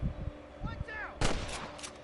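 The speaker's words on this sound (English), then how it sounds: "I can hear more gunshots." Gunshots in the video game Red Dead Redemption, a couple of sharp bursts of gunfire in the open, the louder crack arriving after a short stretch of game ambience and a faint voice.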